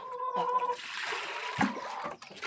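Water splashes and gurgles into a chickens' basin in a poultry yard in a steady close pour, with a heavier splash partway through and faint background sounds.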